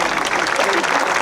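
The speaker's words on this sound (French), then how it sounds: "Vous pouvez également applaudir bien fort nos mécaniciens" Crowd at an air show applauding the Mirage 2000D mechanics, a brief burst of dense clapping mixed with an announcer's voice over the loudspeakers.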